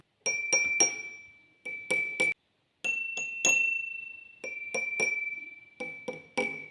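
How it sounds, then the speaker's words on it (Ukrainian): A pencil taps water-filled glasses in short clusters of bright clinks, each ringing out and fading, with pitches differing slightly between groups and pauses between them. "візьміть олівець і постукайте по кожній склянці"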